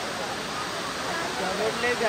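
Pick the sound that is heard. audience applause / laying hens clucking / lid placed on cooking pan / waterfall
waterfall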